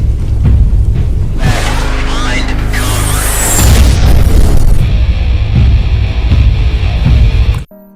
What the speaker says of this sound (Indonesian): untuk kembali menembakkan RPG ke arah bangkai helikopter